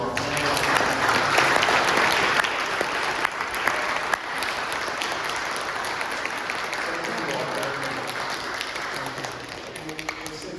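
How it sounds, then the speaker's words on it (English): Sustained audience applause fills the room after a special lecture by a historical society panel, dense steady clapping from a large crowd that keeps going without a break, with some voices mixed in under it. "Can we please give one more round of applause to our panel?"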